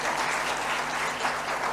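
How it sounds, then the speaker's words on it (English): Steady crowd applause at a technology event, a thick even wash of clapping from many people lasting under two seconds, loud and continuous without speech. "Can we have a big round of applause for them?"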